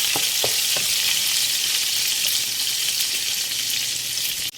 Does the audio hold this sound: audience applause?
no